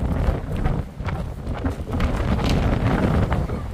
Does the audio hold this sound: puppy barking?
no